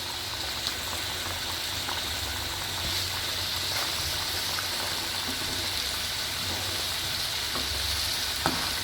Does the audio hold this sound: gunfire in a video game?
no